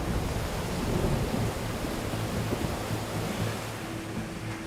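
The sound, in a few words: rain falling outside a cave in Taiwan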